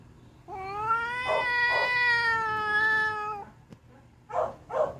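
A cat yowls in a long, drawn-out, harmonic cry for about three seconds, loud and close, as it angrily confronts another cat of the same colour, followed by two shorter sharp growling yowls.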